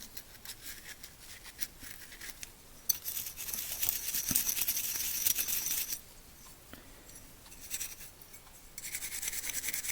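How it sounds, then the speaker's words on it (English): Cheap steel wool rubbed over a small 1/64 scale diecast car body before painting, giving bursts of fine scratchy rasping in uneven strokes, close and fairly quiet, with pauses between passes. "I have this kind of cheap steel wool that I'll just do as a final little rub on this thing before I paint it."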